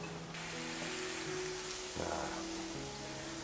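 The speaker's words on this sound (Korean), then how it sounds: "여기다 버터 조금만 집어넣을게요" Butter fries in a pan for Napolitan pasta with a steady crackling sizzle, a faint background hum beneath it and a brief surge of spattering midway.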